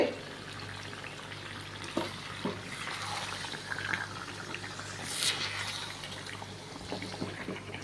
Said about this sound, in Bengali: তো এগুলো আমি সব কষিয়ে নিব একসাথে